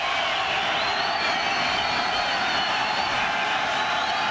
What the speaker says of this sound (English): Crowd back into it on 3rd down